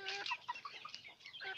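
Native chickens cluck softly in a quick run of short, clipped notes, close but fairly quiet, with no talking over them.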